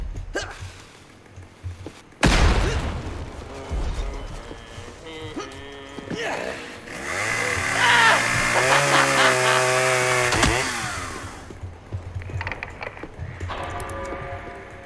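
A chainsaw in the video game Propnight revs up loudly and buzzes with a droning whine, its pitch rising and wavering for several seconds before dropping away, with other game sounds around it.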